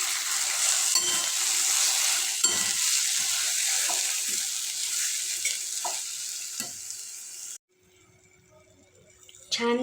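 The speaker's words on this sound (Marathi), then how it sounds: "आता हलवून घ्यायचं आहे" Ratalu yam pieces are stirred in a hot pan, a continuous sizzle of frying broken by repeated scraping strokes of the spoon; the sizzle cuts out abruptly near the end, leaving quiet clinks and a final clatter.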